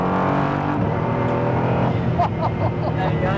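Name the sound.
Praga Bohema hypercar driving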